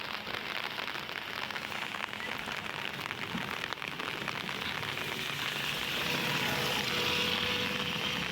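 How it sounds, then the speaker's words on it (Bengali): Steady rain falls over a semi-rural part of Keraniganj, Dhaka, as a continuous dense hiss of drops on surfaces that swells slightly near the end, with no talking. "বৃষ্টি পড়তেছে"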